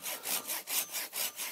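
Hand saw cutting through wood in a workshop, about seven steady back-and-forth strokes in quick rhythm, close and clear with no talking.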